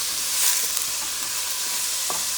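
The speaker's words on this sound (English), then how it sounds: "I'm going to mix all that together. I had like 1 teaspoon of oil in the bottom" Bora beans and dried anchovies fry in about a teaspoon of oil with a steady, close hiss, while a utensil stirs them in with a few soft scrapes and no talking.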